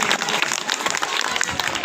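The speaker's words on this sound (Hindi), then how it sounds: "एक बार आप लोग जोरदार तालियों से स्वागत करिए यहाँ बैठे हुए सभी अतिथियों का" An audience at a school function, Gyan Jyoti Vidya Mandir in Awadhanpur, claps loudly to welcome the seated guests, producing dense, energetic applause from a crowd with a faint hint of voices underneath.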